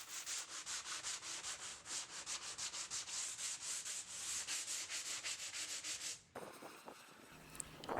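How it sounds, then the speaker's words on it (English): Wooden potting bench pieces get a light hand sanding, a rapid rhythmic series of close scratchy strokes for about six seconds, then stopping into quieter handling sounds. "give everything a light sanding"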